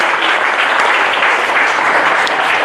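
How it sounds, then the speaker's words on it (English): A conference crowd gives loud, sustained applause for the organizers of a satRday R event in Cape Town, a dense, even roar of clapping with no pauses. "a round of applause for our organizers"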